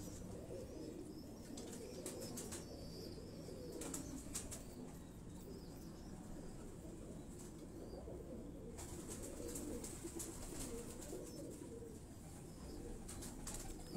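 Pet pigeons on a Lahore rooftop coo in a low, continuous murmur, with bursts of wing flapping and faint higher chirps breaking in at intervals, with no talk.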